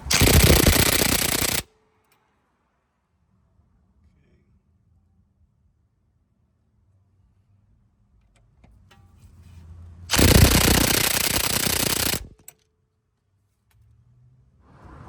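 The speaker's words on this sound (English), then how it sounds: "With my impact gun." An impact gun loosens a bolt in two loud, close, sustained rattling bursts of about one and a half and two seconds, separated by a long quiet stretch with faint low rumbling.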